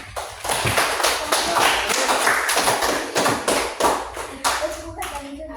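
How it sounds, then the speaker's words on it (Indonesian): A primary school class of fifth graders claps together in the classroom, a burst of uneven, close hand claps with sharp individual slaps, tapering off toward the end as a few stragglers keep going. "Oke, beri tepuk tangan dulu ya semuanya."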